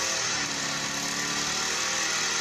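Lawn mower engine running steadily while mowing a parking lot, a loud, continuous mid-pitched drone with no breaks and no voices.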